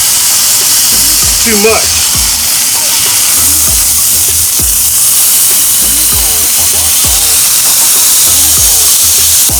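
Smash burgers cook on a Blackstone flat top griddle with a loud, steady hiss and sizzle that runs throughout, while a person talks briefly over it.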